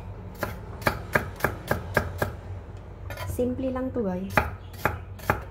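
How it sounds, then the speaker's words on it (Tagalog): An onion chopped with a knife on a board at home, giving a steady run of sharp close knocks, with a brief voice speaking over a pause in the middle. "I will chop the onion first"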